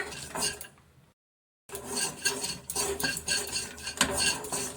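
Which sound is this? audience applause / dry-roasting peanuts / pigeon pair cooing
dry-roasting peanuts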